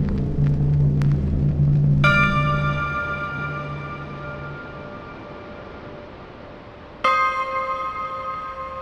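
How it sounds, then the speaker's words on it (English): Two loud strokes of a bell at dusk ring out about five seconds apart, each with a sharp attack and a long, slowly fading metallic ring over a low rumble. "In the dim dusk, just on the precipice of night, tolls a bell"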